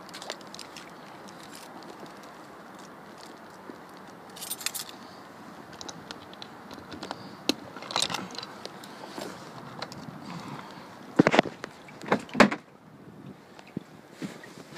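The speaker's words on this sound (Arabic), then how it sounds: "سمعت الطقة اللي من الباب لما بيفتح الباب" A Mercedes-Benz car door opening, with faint handling noise and a few soft clicks, then sharp latch clicks and knocks near the end, close and moderately loud, no talking.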